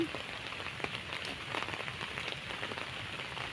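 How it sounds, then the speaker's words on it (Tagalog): Steady rain patters on a hard surface, a dense, even hiss of drops with scattered louder taps, continuing without pause. "Kahit umuulan-ulan, sige."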